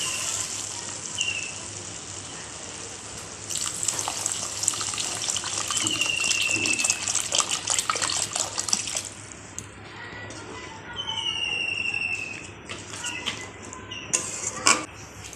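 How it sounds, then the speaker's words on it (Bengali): Water pours in a steady, fairly close stream onto fried spice masala in a pan for a stingray fish curry, a rushing splash lasting several seconds before tapering into softer trickles and drips. "এবার আমি জল দিয়ে দেব"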